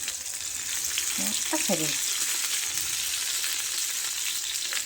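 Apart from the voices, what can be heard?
stuffed Bhavnagari chillies roasting in a pan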